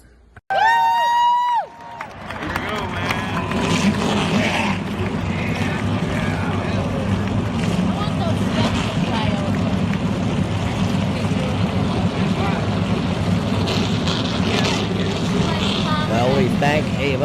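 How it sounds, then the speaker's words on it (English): Race car engines fire up and roar together at a Richmond modified series race, a dense, loud mechanical rumble after a brief high whine, with crowd noise mixed in and sustained throughout. "Drivers, start your engines."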